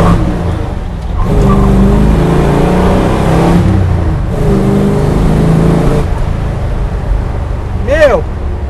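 A Dodge Challenger R/T with a 440 V8, six-pack carburetors and manual gearbox roars under acceleration, its engine note rising and falling in loud sustained revs, with a brief whistle-like sweep near the end.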